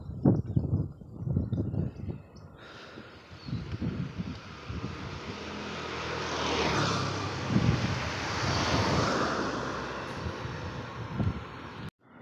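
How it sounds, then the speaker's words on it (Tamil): Wind blowing outdoors along a grassy coastal stretch near Reis Magos Fort in Goa, a steady broadband rush that swells and settles over several seconds, with low buffeting rumbles against the microphone. "கரெக்டாக காற்று அடிக்குது."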